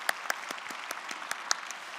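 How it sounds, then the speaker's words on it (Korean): Sparse applause from a church congregation at a worship service, a few distinct claps spaced apart at a moderate distance rather than a full ovation. "우리 한 분 한 분 위해서 다시 한번 축복의 박수를 보내겠습니다"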